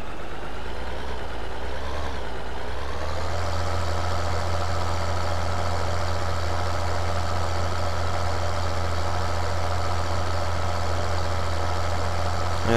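A truck engine in Farming Simulator 2013 (LS 13) drives off-road with the Kröger Agroliner pack, holding a loud, continuous drone that shifts in pitch early on and then settles into a steady hum.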